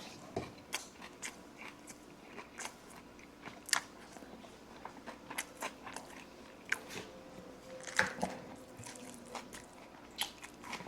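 Biscuits being bitten and chewed up close, with irregular crisp crunches and snaps scattered over steady wet mastication, no talking.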